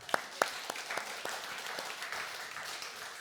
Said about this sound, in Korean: 우리 아이들에게 우리 박수 한번 쳐줍시다